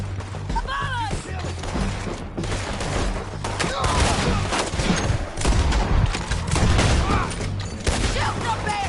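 Dense gunfire in Red Dead Redemption 2, rapid shots and volleys cracking steadily across the whole stretch, loud and close, with shouted voices mixed in.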